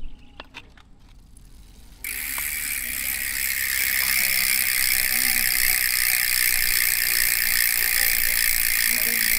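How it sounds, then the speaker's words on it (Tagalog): A Ragusa XM500 MTB hub with sealed bearings freewheels after a spin, giving a steady, fast, buzzing ratchet clatter that stays loud and close for several seconds after a few sparse clicks at the start. "yan yung tunog ng Ragusa XM500 MTB hubs kapag naka free wheel"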